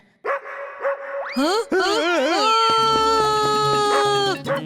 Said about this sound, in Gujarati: હે ડોગ, સ્ટોપ બાર્કિંગ.